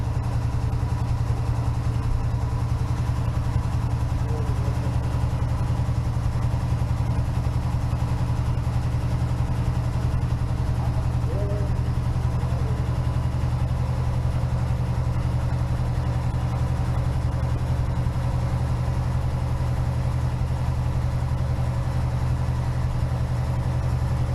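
1969 Pontiac Firebird engine idling steadily in neutral while the wheels spin freely, a constant low rumble held close for the whole stretch with faint clicks above it.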